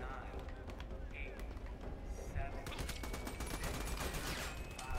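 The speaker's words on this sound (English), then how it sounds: "they're shooting me" Rapid bursts of video game gunfire crackle continuously, sharp repeated shots layered over a busy, dense background of battle noise with steady loudness throughout.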